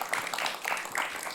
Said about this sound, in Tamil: குழந்தைக்கு வந்து ஒரு பெரிய கைத்தட்டல் கொடுக்கலாங்க.